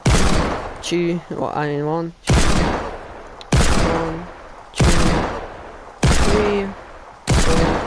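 Scoped revolver shots in Fortnite fire as loud, single sharp blasts spaced roughly a second apart, five or six in a row, with brief talk from a player between the first shots.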